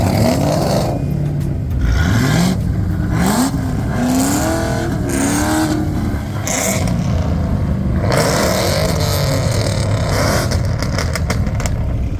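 Several Ford Mustangs, including a GT350, a Cobra and a Roush, pull away in a group at a car event, their engines revving loudly with rising and falling pitch sweeps as they drive off close by.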